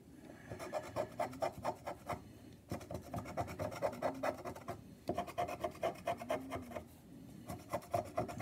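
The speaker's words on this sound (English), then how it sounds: "If I scratch too hard, then it scratches the numbers right off." A Wisconsin lottery scratch-off ticket is scratched in rhythmic rasping strokes, close and quiet, in three bursts separated by short pauses, with no talking.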